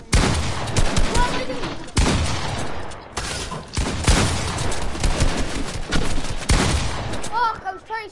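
Gunfire in Fortnite, dense bursts of shots and impacts aimed at the ground, loud and near, with short pauses and game sounds mixed in.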